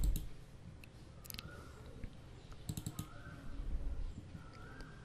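A computer mouse clicking on a Windows PC, scattered sharp single and double clicks close up, alone over a quiet room.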